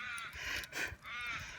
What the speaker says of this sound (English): So as you can hear, I'm back at the crows where I started.